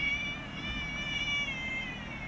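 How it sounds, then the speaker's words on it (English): Cats meow with faint, drawn-out tonal cries over a steady background hum, sounding somewhat distant and soft indoors, with no speech. "If you hear a bunch of meow, forgive us."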